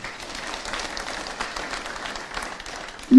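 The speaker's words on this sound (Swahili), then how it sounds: "Tuwapigie makofi sana" Audience clapping at a public event in Meru, soft scattered applause from a crowd, fairly distant and steady, ending with a sudden louder burst.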